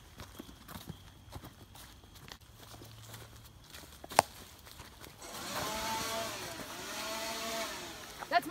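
A distant leaf blower drones in from midway, its pitch rising and falling, after a stretch of quiet outdoor ambience with scattered footsteps and clatter.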